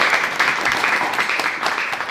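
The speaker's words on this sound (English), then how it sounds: "We'll give them a round of applause." An audience at a creators' networking event applauds in a short, dense burst of clapping that stays steady throughout.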